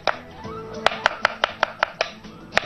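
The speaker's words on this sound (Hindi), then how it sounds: "और एक अदद दरमियानी प्याज को बारीक स्लाइस करके" A medium onion is finely sliced with a knife on a cutting board: about nine crisp, close knife strikes in a steady, even rhythm after a brief quieter start.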